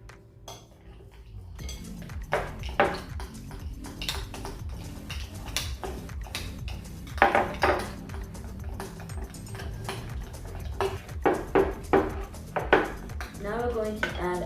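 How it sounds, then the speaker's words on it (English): Baking soda being stirred into colored glue for homemade slime, giving repeated clinking and scraping of a utensil against a bowl, fairly close, under intermittent talk. "now we're going to add a little bit of our baking soda and mix it with our colored"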